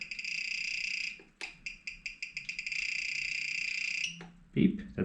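Short electronic beeps from the trim control of an RC transmitter for a HobbyZone Carbon Cub S2 model plane, a run of quick beeps and a steady tone, faint and close with light handling noise.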